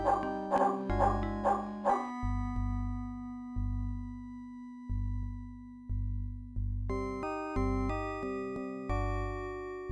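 A dog in the old point-and-click horror game Call of Cthulhu: Shadow of the Comet gives a few retro, synthesized barks. Plain electronic tones follow in a slow, pulsing game tune.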